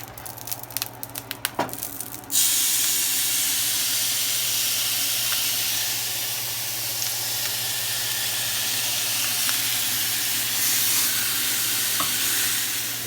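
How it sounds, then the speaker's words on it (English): A few quick clattering knocks open, then lamb hits a hot pan and a loud, dense sear erupts, hissing steadily and evenly to the end with only faint occasional ticks. "We're going to sear the tops to put some color on."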